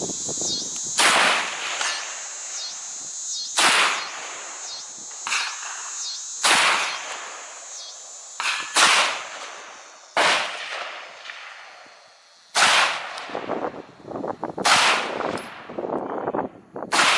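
A Benelli M4 Tactical shotgun fires slugs in a string of about seven loud, close blasts, each a sharp crack with a ringing tail, spaced irregularly a second or two apart at an outdoor range.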